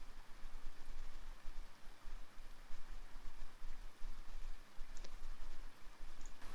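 Rain falls in the video game NEO Scavenger as a steady, even hiss that fills the whole stretch with a dense wash of drops and no clear breaks.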